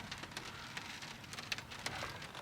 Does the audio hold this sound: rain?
yes